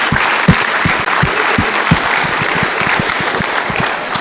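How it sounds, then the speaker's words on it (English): A room full of school staff at a district convocation applauds loudly and steadily, a thick wash of many hands clapping with no break, fairly close. "Give yourselves a round of applause,"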